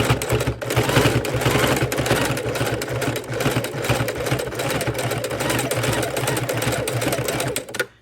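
A sewing machine runs continuously while stitching fabric for a DIY wallet keychain purse, a fast steady mechanical clatter that barely pauses over eight seconds.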